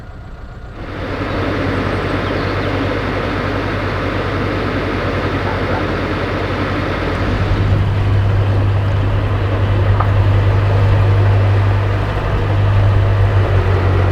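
A narrowboat engine runs steadily while the boat is underway, a loud, continuous low drone with a hum that rises and firms up partway through, heard alone with no talk.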